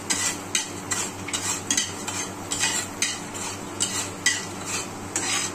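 Sugar is stirred in hot oil in a pan, with rhythmic scraping strokes repeating about twice a second over a steady close sizzle.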